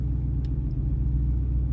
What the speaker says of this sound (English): that is the compressors filling up the tank